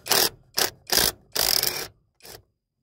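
A ratchet on an extension works loose the 9/16 top bolts of a transmission tailshaft housing, producing five close, loud bursts of rapid clicking separated by short pauses, with no talk.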